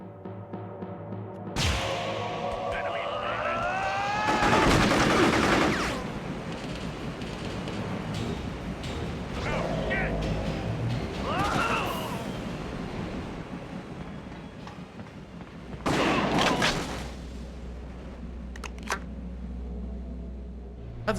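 In Psi-Ops: The Mindgate Conspiracy a shotgun fires with a few loud, sharp blasts, separated by mechanical reload clacks and scattered game effects, with no one speaking.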